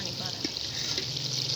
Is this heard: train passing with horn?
no